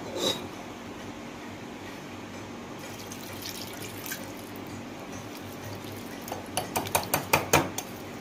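Water is poured and mixed into pancake batter in a bowl, with soft clinks of utensil against dish and a run of rhythmic scraping taps near the end, fairly quiet and close.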